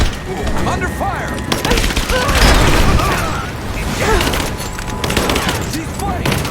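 Heavy automatic gunfire in Rise of the Tomb Raider rattles continuously, with booms mixed in, while shouting voices cut through the firefight.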